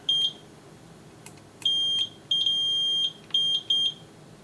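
Multimeter continuity beeps while probing a TurboGrafx-16 board after a region mod: a short steady tone, then several longer and shorter beeps of a few tenths of a second to over a second, with brief clicks between, close and clear.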